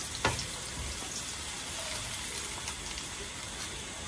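Onions frying in a pan for a Bengali home-cooked chorchori give off a steady, even hiss that stays close and unbroken, with a small sharp tick near the start.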